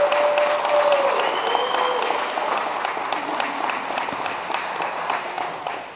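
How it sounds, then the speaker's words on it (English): Sustained applause from an audience at a graduation ceremony honoring the ninth graduating class of a program, steady and full, with faint tonal sounds and murmured voices threaded beneath the clapping. "Can we give one final round of applause for our ninth graduating class of"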